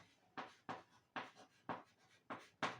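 A math problem being written out by hand, with six short scratchy pen or chalk strokes in a steady rhythm, close and fairly quiet, with no talking.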